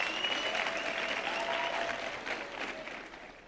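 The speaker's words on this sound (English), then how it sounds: "Big round of applause to everyone who is in this house." A crowd applauding steadily at a youth weekend event in Mafikeng, a dense wash of clapping that holds strong and fades slightly toward the end.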